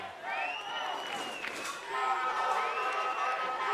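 Crowd noise at a U18 AA championship football game between Brantford and Guelph, a steady roar of cheering spectators under close commentary voices.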